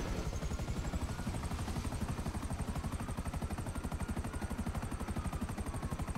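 A helicopter in a video game thumps with fast, even rotor beats that hold a steady, loud pulse throughout with no talking.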